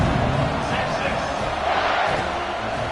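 Football stadium crowd at a college game kicking off after a score, a steady broad roar of many voices throughout, loud and continuous without distinct cheers or bursts.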